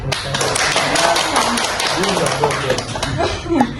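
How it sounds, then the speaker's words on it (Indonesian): Audience applause at a talk-show style event, with scattered claps and taps running under loud, continuous talking and some chuckles. "Tepuk tangan lagi dong."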